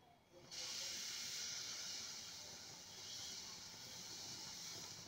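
Uttapam batter of semolina hits a hot griddle over a gas flame and sets off a sudden loud sizzle that holds as a steady broad hiss, with no voices.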